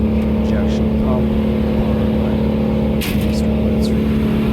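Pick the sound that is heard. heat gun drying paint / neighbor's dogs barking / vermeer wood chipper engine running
vermeer wood chipper engine running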